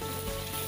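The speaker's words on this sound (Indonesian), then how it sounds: "Baru kita tuangin minyak goreng secukupnya" Cooking oil poured into a hot pan crackles and sizzles steadily while frying bird meat for rica-rica, a dense continuous hiss close by with no talk.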